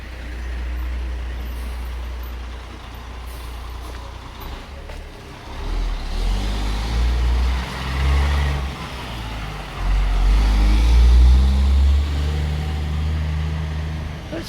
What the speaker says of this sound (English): Dump truck coming, might be a little noisy.